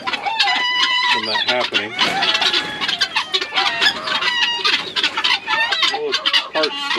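Chickens cluck and squawk continuously inside a coop, close and loud, with a rooster-like call mixed in, while someone talks over them.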